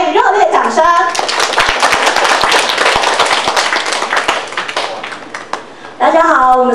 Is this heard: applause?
yes